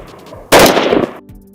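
An INSAS light machine gun fires a short, loud, close burst lasting under a second during BSF commando training, with harsh rapid reports that cut off abruptly.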